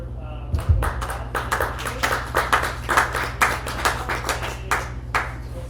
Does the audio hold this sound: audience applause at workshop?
yes